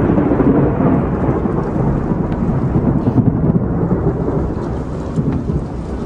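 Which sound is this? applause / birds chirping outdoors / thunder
thunder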